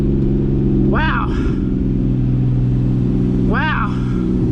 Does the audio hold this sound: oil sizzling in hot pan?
no